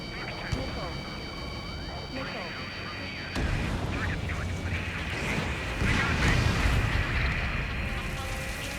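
Missile fire and explosions in the combat flight game Ace Combat 7, dense and continuous over a steady jet roar, with a louder burst about a third of the way in and a swell near the end. Voices talk over the action.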